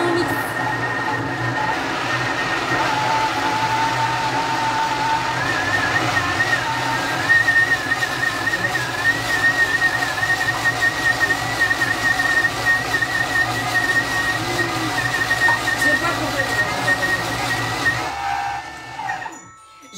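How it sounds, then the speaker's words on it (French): Food processor blending poultry stuffing at speed 7, a loud steady whirring drone with a sustained high whine that runs for about eighteen seconds before winding down and stopping. "on va mixer 20 secondes, vitesse 7. Là, vraiment, on mixe."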